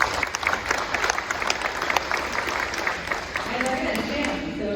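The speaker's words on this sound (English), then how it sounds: "since she gave me the permission to ask for applause, I think Jamie deserves some." Audience applause at a candidate and election forum, a steady patter of clapping from a modest crowd that carries on throughout, with scattered sharper claps standing out.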